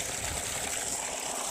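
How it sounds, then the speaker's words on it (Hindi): Groundwater pumped from underground in a Karachi village pours out through a pipe, a steady close rush of flowing water with a hissy, splashing texture, no voices. "पाइप के ज़रिए पानी निकाला जा रहा है"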